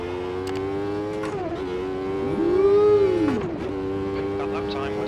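A 1991 Formula 1 car's engine howls in the Automobilista 2 racing sim, a steady high-pitched scream that rises and falls as it shifts through gears, with a swelling whine in the middle and no talk over it.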